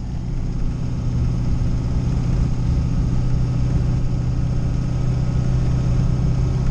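An LS 5.3-swapped Fox body Mustang running on slicks, its V8 droning steadily from inside the car at a constant low rumble while driving, with no talk over it.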